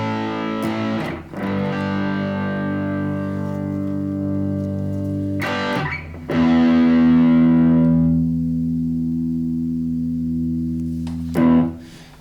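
An electric guitar plays distorted chords through a Harley Benton Tube 15 tube amp head. Three separate strums ring out and sustain with a heavy, buzzy tone, each one decaying before the next attack, plus a short noisy hit at the end.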